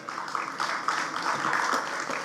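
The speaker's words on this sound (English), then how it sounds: "I think we should clap for that." Audience applause at the opening ceremony of the Rainforest Seafood processing plant, steady clapping from a crowd sustained throughout at moderate level.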